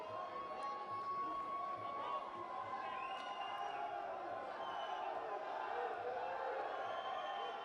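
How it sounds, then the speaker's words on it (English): Crowd cheering and whooping at a kickboxing fight in Amsterdam, a steady distant roar of voices that runs throughout, with a commentator talking over it. "Great support from the crowd here for these guys."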